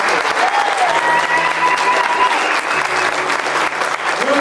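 A theater audience applauds its two co-directors after a backyard church musical production, loud sustained clapping filling the room for several seconds, with voices mixed in beneath.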